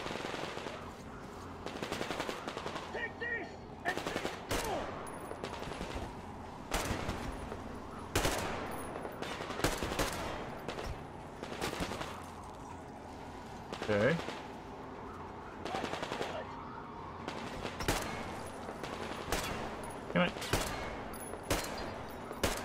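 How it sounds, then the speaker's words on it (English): Repeated bursts of automatic gunfire in the video game Metro Exodus, sharp broadband cracks spaced irregularly across the clip, loud and close, with a voice talking underneath at points. "Oh, who's shooting at me?"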